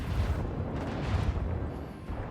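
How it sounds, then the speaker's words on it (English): Macro cannons firing in the Rogue Trader video game, a faint, continuous low rumbling barrage of booms with no speech over it. "I want to hear the macro cannons roar."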